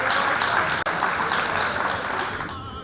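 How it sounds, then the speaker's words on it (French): Wedding guests applaud during the speeches, a loud, dense, continuous wash of clapping from a full room that holds steady and then tapers slightly toward the end, with no talking over it. "on l'applaudit très très fort"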